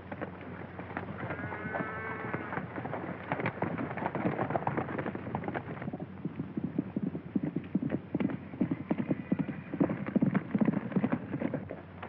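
Horse hooves clip-clop steadily on hard ground in an old Western film scene, a continuous rhythmic trot of dense, fairly loud hoofbeats with some faint shouts and scuffling mixed in.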